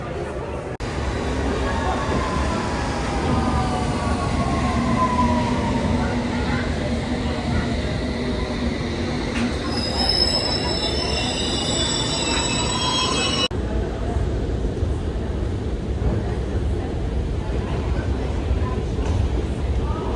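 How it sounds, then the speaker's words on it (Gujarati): A London Underground train rumbles loudly into a tunnel station, with rising squeals of wheels and brakes partway through and a steady heavy roar throughout. "એજવેર રોડવાળી ટ્રેન આવે છે"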